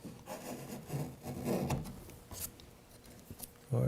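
A wood chisel pares end grain on a dovetail pin board, making a series of close, dry scraping and rasping strokes with short pauses between them and no talking.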